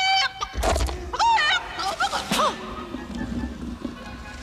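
Chicken in the 1985 film Return to Oz: a run of sharp, squawky clucks and rising-falling calls in quick bursts, fairly close, then fading into a quieter background.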